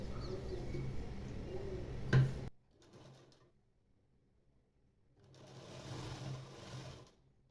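A sewing machine stitches a size-36 katori blouse in two close, steady bursts of rapid needle clatter, the first about two and a half seconds long, then a quiet pause before a second run.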